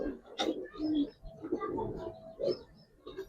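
Silver Giribaz pigeons coo repeatedly in soft, low, throaty bursts, close by and fairly loud, with short pauses between calls.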